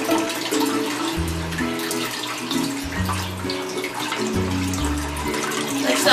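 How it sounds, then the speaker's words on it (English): A garden hose sprays water upward in a homemade dog water fountain, giving a steady, loud hiss of splashing water over a low, stepping tonal background. "So you see how that's spraying water upwards."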